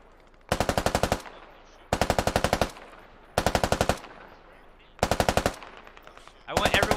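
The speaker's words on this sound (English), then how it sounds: "Just let the MRAP shoot, just the MRAPs." A vehicle-mounted machine gun on an MRAP in the Squad video game fires five loud, evenly spaced rapid bursts, each a tight volley of shots with short gaps of quieter background between.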